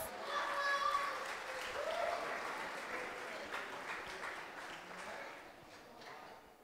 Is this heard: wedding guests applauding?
yes